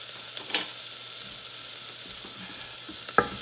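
Chopped shallots sizzling in hot melted butter in a pan, a steady close hiss of frying throughout with a couple of brief utensil clinks.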